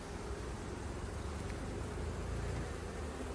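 Honey bees buzz at an open hive while honey supers are being handled, a dense, steady drone of many insects that stays even and close throughout with no talk.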